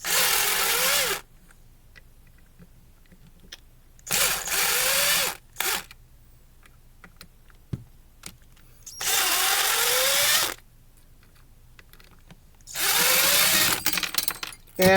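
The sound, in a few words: power driver removing screws from a Mainstays fan motor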